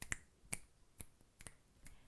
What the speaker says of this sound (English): join me in snapping your fingers